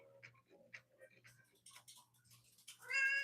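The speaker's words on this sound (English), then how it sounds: "That's my cat Lulu." A pet cat meows a few times, with short, close cries spread through a quiet room and a steady low hum underneath.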